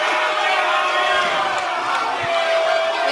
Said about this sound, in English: The crowd's booing